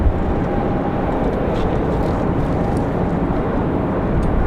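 Jet airliner landing at Raleigh-Durham International Airport on a windy day, a steady broadband engine roar and rushing wind noise that stays loud and constant throughout, with no talking.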